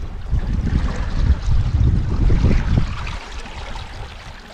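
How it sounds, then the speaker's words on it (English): A brook running strong during muddy spring season on a large off-grid wooded property, a close, loud gushing rush of water that churns steadily and then eases slightly toward the end. "But the brook is running good."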